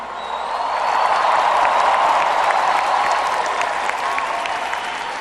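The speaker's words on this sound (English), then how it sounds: "Please give a big CCXP round of applause" A large audience at CCXP applauds, dense and continuous clapping that swells and holds steady for several seconds, loud and close.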